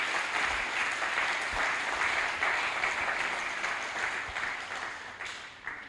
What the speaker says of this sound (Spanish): ¿Le puede dar un aplauso al Señor por su ayuda?